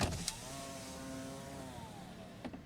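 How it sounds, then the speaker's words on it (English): Driver's power window of a 2015 Toyota Prius Four rolling down, a steady motor whine lasting a couple of seconds under a faint background hum, with small clicks at the start and end. "now we'll go ahead and roll down the driver's window"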